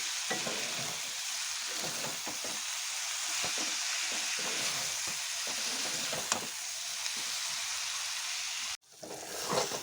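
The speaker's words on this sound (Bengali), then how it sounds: "এবার ভালো করে নাড়াচাড়া করে নেব" Potol, greens and chopped brinjal are stirred in a frying pan, a steady loud sizzle with repeated scraping knocks of the spoon, the frying briefly cutting out near the end before resuming.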